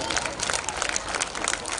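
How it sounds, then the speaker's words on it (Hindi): A crowd at a Jhuggi Samman Yatra gathering claps vigorously, with dense, rapid overlapping hand claps close by that carry on evenly throughout. "एक बार जोरदार ताली"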